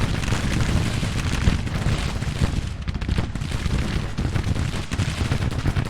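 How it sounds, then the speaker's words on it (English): Massed musket volleys and artillery fire rattle in the Civil War strategy game Grand Tactician during the Battle of Rolla: a dense, continuous crackle of gunfire with heavy booms underneath, steady and fairly distant, with no voices. "A whole lot of fire going on down here."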